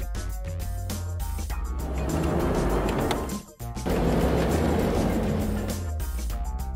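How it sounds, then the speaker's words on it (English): A sport utility vehicle drives past with a steady, broad engine and road roar that swells over a backing music bed, breaks off briefly midway, then resumes. "Sport utility vehicle."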